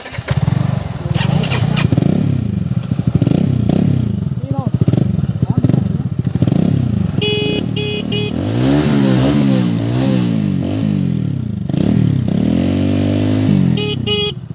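A Honda CBR 150R motorcycle ridden on a highway, its engine loud and close, with repeated rising revs and falling pitch through gear changes across the whole stretch.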